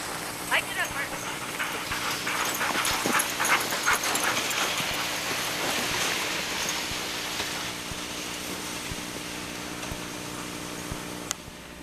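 Sled dogs on a line whimper and bark amid steady background noise while people talk over the scene throughout.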